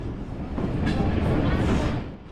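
Pakistan Railways Bahauddin Zakaria Express sleeper train running between Karachi and Multan, a steady loud rumble of wheels and carriage with swelling rattles and faint clatter throughout.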